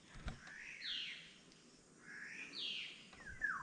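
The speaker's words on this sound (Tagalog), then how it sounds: "naririnig na natin ang sigawan ng mga ibon. Naghihiyawan sila." Birds screech and call in repeated rising and falling cries, a couple of distinct calls over quiet outdoor background with no talking.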